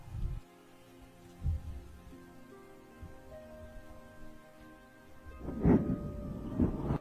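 Rain falls steadily at low level in a cartoon scene, a soft patter with a few heavier drops and faint rumbles, heard alone without any voices.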